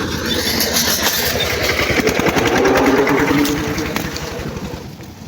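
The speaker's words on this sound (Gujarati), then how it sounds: "ટ્રેક્ટર આવી ગયું" A farm tractor engine runs steadily and close by, a dense rhythmic diesel chug that stays loud throughout before easing slightly near the end, with faint talk in the background.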